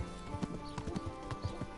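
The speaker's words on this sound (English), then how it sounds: "call my horse over" Horse hooves clip-clop in Kingdom Come: Deliverance as a saddled starter horse is called over, a run of soft, fairly close hoof thuds in uneven rhythm over low game ambience.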